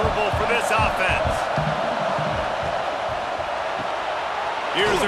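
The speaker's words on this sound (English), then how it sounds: "This crowd trying to make life miserable for this offense." A stadium crowd at a college football game between Louisiana Tech and LSU roars steadily and loudly throughout, with a broadcast commentator's voice heard over it.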